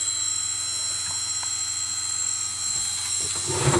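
Small GrabX quadcopter drone motors spinning slowly indoors, a steady whining hum with a high tonal whine running throughout, close and continuous, with faint handling clicks.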